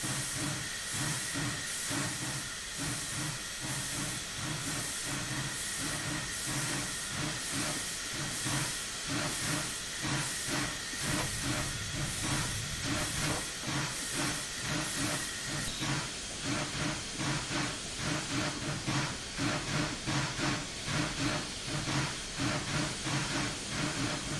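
Steady, loud steam hiss from the blower on a Union Pacific Big Boy locomotive in Train Simulator 2021, continuous throughout with a faint rhythmic chuffing underneath and no voices.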